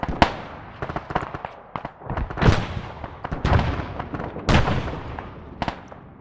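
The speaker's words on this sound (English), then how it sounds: "Hearing the shells coming in." Mortar shells exploding in the Arma 3 military game, a series of sharp booming blasts and cracks at irregular intervals, some near and loud and others more distant, with no talking.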